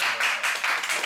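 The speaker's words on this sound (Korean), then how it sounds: "박수 해야죠." An audience at a workshop claps in a few uneven bursts, moderately loud and close, swelling and fading in waves over roughly a second.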